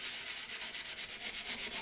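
Fine 320-grit sandpaper rubbed along the grain of a wooden chessboard frame, a steady back-and-forth rasp in even strokes of about five or six per second, close and alone.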